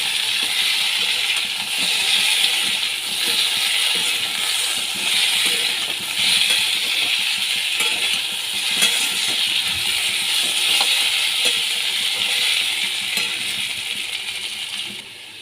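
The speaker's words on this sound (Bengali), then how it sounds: "ভালো করে আমি ভাজা ভাজা করে নিচ্ছি" Elephant foot yam curry frying in a pan with ground coriander and a splash of water: a steady, loud sizzling hiss that carries on without a break, close up, with no voices.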